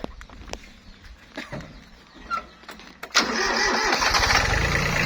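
A Japanese-built three-cylinder 4WD farm tractor engine starts up. A few scattered knocks and clicks give way to the starter, then the engine catches abruptly and settles into a loud, steady diesel run.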